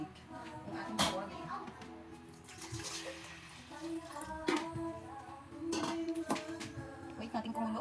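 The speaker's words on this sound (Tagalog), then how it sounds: "Lagyan lang natin ng tubig." Water splashes and gurgles into a cooking pot while making tinola, a fairly quiet pour that starts and stops in short bursts, with a person talking over it.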